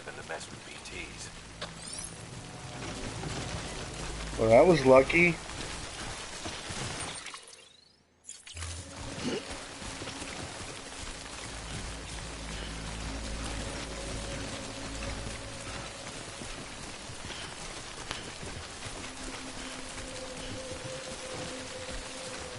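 Rain falling in the Death Stranding game, a steady hiss under talking voices, broken by a loud glassy shattering burst, a brief dropout, then continued patter with music tones.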